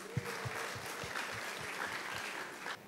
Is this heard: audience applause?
yes